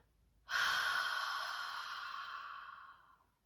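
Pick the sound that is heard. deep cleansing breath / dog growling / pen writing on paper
deep cleansing breath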